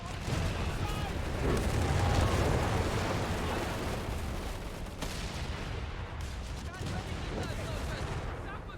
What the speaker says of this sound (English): when their mortar units become visible for a second, I can target them with my mortar squads. And my mortars are fucking bigger.